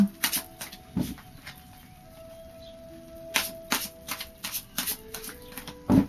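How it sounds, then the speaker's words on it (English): Tarot cards being shuffled in quick crisp bursts, riffling and snapping close by, with short pauses between rounds and a faint hum beneath. "I'll just do a final shuffle."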